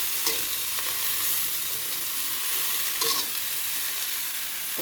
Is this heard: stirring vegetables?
yes